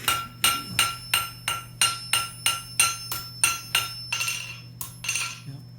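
Blacksmith hammering a hot iron rod into a nail at an anvil, about a dozen evenly spaced ringing metallic strikes, loud and close, then a couple of slower, more ragged blows.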